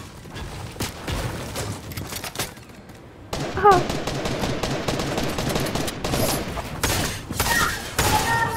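Fortnite gunfire rattles in rapid, close bursts of sharp shots and volleys, with a brief lull before heavier firing resumes, mixed with thuds and mechanical clicks under excited talk from players.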